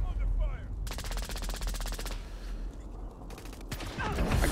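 Rapid automatic gunfire in a first-person shooter video game, two long bursts of fast repeated shots and a shorter later burst, fairly loud against background game noise.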